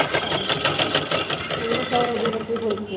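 Sewing machine stitching a fatua tunic, running in quick rhythmic bursts that speed up and slow down, with a person talking over it close by.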